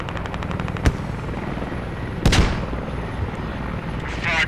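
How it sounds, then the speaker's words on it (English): Rapid chopping thud of a helicopter passing nearby in the video game Squad, steady beating rotor with a couple of sharp bangs cutting through. "Second helicopter coming by."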